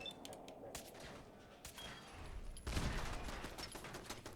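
Gunfire in Fallout 4 striking a barrel, scattered sharp shots followed by a heavier, louder impact burst partway through, set against faint game ambience.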